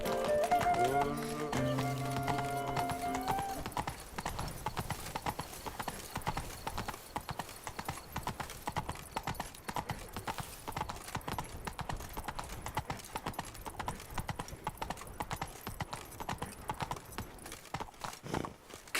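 Roach, the horse in The Witcher 3: Wild Hunt, gallops with steady rapid clip-clop hoofbeats that run nearly the whole time, loud and close, after a brief stretch of music and voice at the start.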